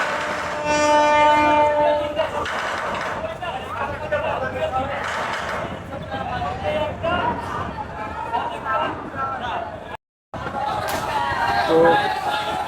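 Passenger launch Kirtankhola-10 arriving at Barisal ghat, its loud horn blaring in steady tones at the start over a constant busy rumble, with a voice talking throughout.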